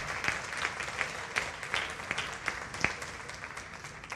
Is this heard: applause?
yes